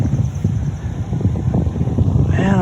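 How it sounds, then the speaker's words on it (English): Wind buffets the roof of an off-grid camper, a loud, low rumbling gust noise pressing directly on the microphone that is continuous and close, with a faint whine rising near the end. "windy on the roof today"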